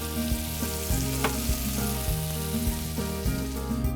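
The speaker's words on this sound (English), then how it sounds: "just tilt the pan, kind of drench the scallops with it" Scallops searing in butter and spice in a tilted pan give off a steady, close sizzle with crackling pops, running continuously with no voices over it.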